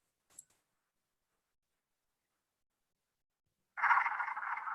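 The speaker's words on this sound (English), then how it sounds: "next up, wood frogs" Wood frogs calling along a spring nature trail in Door County: one brief faint note near the start, then silence, then a loud, dense chorus of clucking calls that breaks in near the end and carries on.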